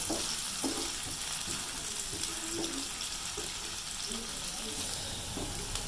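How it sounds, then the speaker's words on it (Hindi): Chopped onions frying in a pan for a potato and capsicum curry, giving a steady broadband sizzle with faint scattered clinks, close and continuous, with no voices. "प्याज़ों को हमने हल्का सा ब्राउन करना है।"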